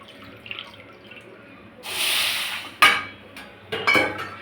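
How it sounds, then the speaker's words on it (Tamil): Water is poured from a cup onto jaggery in a pan, giving a short splashing rush followed by a couple of sharp metallic clinks and a second brief pour, close and fairly loud in a quiet kitchen. "1/2 கப்புக்கு அதே மெஷர்மெண்ட்டில் 1/2 கப்பு தண்ணி ஊற்றி பாவு காசி எடுத்துடலாம்."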